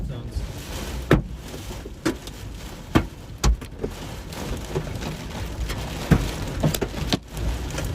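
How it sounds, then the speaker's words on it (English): Big hailstones pelting down during an intense supercell storm near Seymour, Texas, a steady loud clatter broken by sharp irregular heavy impacts, with voices talking now and then. "These are big, big hailstones."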